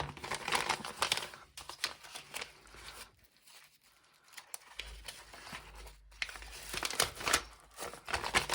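Crinkling and rustling of a paper packet of cactus seeds being opened close by, in bursts with quiet gaps in between, soft tearing and crumpling sounds.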